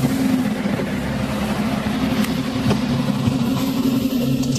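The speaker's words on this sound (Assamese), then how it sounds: "ইঞ্জিনটো দেখাই দিছো এবাৰ ষ্টাৰ্ট কৰি" 2020 Maruti S-Presso VXI petrol car with about 37,600 km on it, engine running at a steady idle with a low, even hum, close and uninterrupted with no talking.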